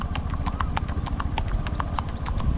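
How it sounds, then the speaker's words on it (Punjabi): A mare's hooves clip-clop at a short, single-beat gait, sounding close, loud and evenly spaced, with no talking over them. "ਇਹ ਛੋਟੀ ਚਾਲ ਹੈ, ਇਕੱਲੀ ਇਕੱਲੀ ਆਵਾਜ਼ ਆਉਂਦੀ ਹੈ ਘੋੜੀ ਦੇ ਪੈਰਾਂ ਦੀ"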